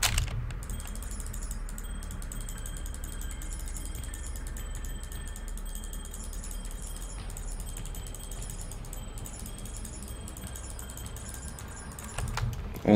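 Steady clicking of a computer mouse and keyboard while sorting items in Path of Exile 2.5.2 Breach hardcore, a constant busy patter that runs throughout at moderate level, with a few louder clicks at the end.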